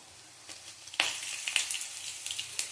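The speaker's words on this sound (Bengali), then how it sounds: "কালো জিরে ফোড়ন দেবো।" Black cumin seeds crackle and sizzle as they hit hot oil in a pan, a fairly quiet, steady fry with a sharp burst near the start and scattered small pops after.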